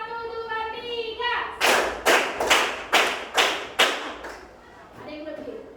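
A class of children claps together in rhythm, six or seven loud, evenly spaced claps in unison, with children's voices chanting before and after the claps.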